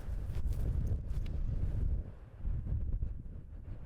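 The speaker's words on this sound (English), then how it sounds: "Ville hitting the gap, but it just gets destroyed by the wind." Wind blowing across an outdoor disc golf course during a tournament, buffeting the microphone with a low rumbling roar that surges and eases in gusts.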